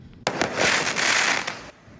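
A burst of fireworks on a mountainside during the Mid-Autumn holiday, a sudden loud crackling volley that rolls on for about a second and a half, then cuts off.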